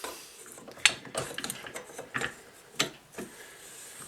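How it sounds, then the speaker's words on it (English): Wrench working a castle nut loose on a rifle buffer tube, giving a few sharp ratcheting clicks and metallic scrapes at close range in a quiet room. "And now we're going to release the castle nut."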